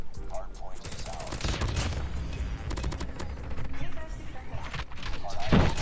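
Gold Switchblade X9 submachine gun in COD Mobile fires in rapid, loud bursts of gunfire with impacts in between, heard over continuous game noise and under a player's talk.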